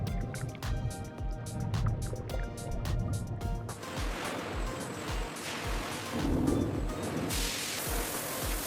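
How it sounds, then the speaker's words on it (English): Powerful water jets and rotating brushes wash apricots in a jam factory, giving a steady, close rush of spraying and splashing water with mechanical churning throughout. "Powerful water jets and rotating brushes remove dirt, dust, and unwanted debris"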